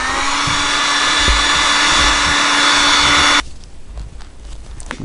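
A heat gun blows a steady, loud broadband roar while warming a steel door panel with freshly glued edges, then cuts off abruptly after about three and a half seconds, leaving quiet room noise.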